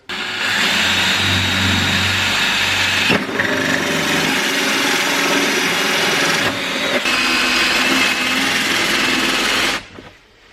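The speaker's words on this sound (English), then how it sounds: "I'm going to start dremeling out this hole here, because then we'll be able to like feed it through" Dremel rotary tool grinds a hole through the plastic headlight housing of a Polo GTI track car, whining loudly and steadily with two brief pauses before it winds down at the end.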